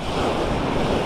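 Ocean surf breaks along the beach at Soulac near the Pointe de Grave, a steady wash of waves mixed with wind noise on the microphone.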